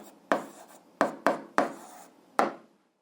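Chalk or marker strokes scratch across a classroom board while an algebra fraction is written out, five short separate scrapes spaced unevenly over a few seconds, close and fairly quiet, with no talking.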